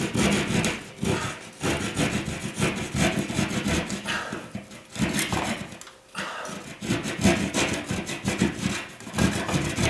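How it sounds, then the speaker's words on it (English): Drywall being trimmed by hand around a round plastic electrical junction box, a steady close rasping and sawing scrape that runs continuously with brief pauses, no talk. "I might just trim the drywall just a little"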